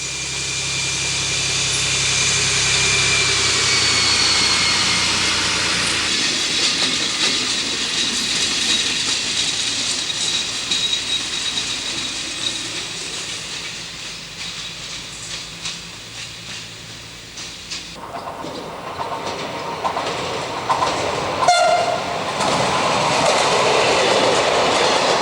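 SNCF X 4300/4500 "Caravelle" diesel railcar passing, its engine rumbling with steady rail clatter that swells as it goes by. No horn stands out clearly, and no one speaks.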